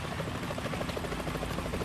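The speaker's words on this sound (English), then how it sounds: "The chopper." A video game helicopter's rotor chops in a steady rapid rhythm, a continuous thudding drone with no speech, from Metal Gear Solid 2.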